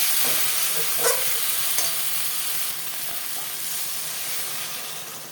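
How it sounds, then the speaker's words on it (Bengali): Fried potatoes are sautéed with masala in a pan for a potato and pointed gourd curry, giving a constant, close sizzle with a few soft stirring knocks and scrapes. "ভেজে রাখা আলু কটে মশলার সাথে ভালো করে কষিয়ে নিতে হবে"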